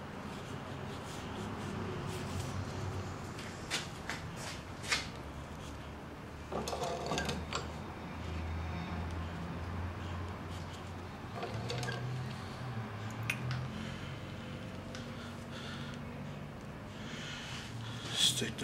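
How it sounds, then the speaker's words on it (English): Hand-sewing a leather holster seam with the piece clamped in a vise, steady low mechanical scraping and pulling sounds continuing throughout, close up with occasional knocks. "now we're going to place it back in the vise and then sew up the other end here"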